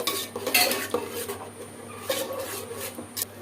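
A spoon scrapes and stirs a chilli powder and turmeric masala in a metal pan, giving close, repeated rasping and clinking strokes.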